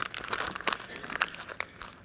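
An old paper poster is crumpled in the hands, giving close, crackly crinkling bursts in a rapid irregular run.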